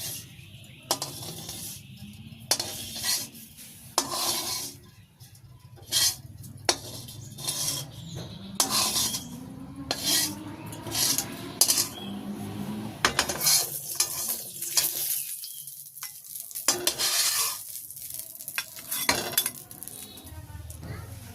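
Whole cumin seeds frying in oil in a village kitchen pan, with a steady sizzle broken by repeated scraping and clinking of a metal spoon stirring, loud and close, with occasional faint speech.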